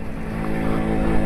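An MZ TS125 motorcycle with a freshly built engine, ridden on the road: a buzzing, harmonic-rich engine drone holds steady, then rises slightly in loudness near the end, close and loud.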